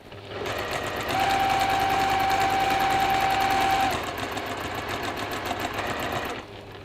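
A sewing machine stitches bunting on in a fast, steady, even rattle heard close and alone, running for several seconds before easing off at the end.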